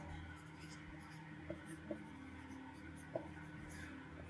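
Writing on a board during a physics lesson on Ohm's law, with quiet scratchy strokes and a few light taps at irregular intervals in a faint room with soft background murmur.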